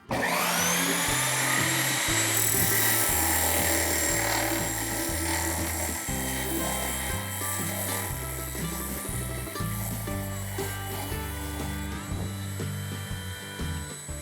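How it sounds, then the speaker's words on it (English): A table saw used as a sander on a wooden disc offcut, a loud continuous machine whine with rough rubbing and grinding that shifts in pitch as the wood is pressed and moved. "I'll have to say it's a very aggressive sander"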